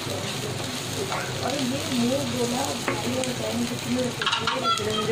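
Dried coconut roasting in a pan gives a steady crackling sizzle with occasional stirring scrapes while a voice talks over it intermittently.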